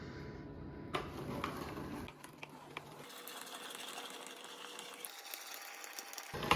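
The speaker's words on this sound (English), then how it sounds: "So we grind it up, and then you have the meat." An electric meat grinder whirs steadily as it grinds steak for tartare, a close mechanical hum with clicks and a brief shift in pitch partway through.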